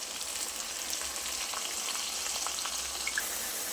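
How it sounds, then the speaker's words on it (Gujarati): Onions and tomatoes frying in a pan for vegetable masala khichdi give a steady, close sizzle with faint crackles throughout, and no one speaks. "ડુંગળી થોડી સોફ્ટ થાય પછી આપણે ટામેટાં ઉમેરી દઈએ."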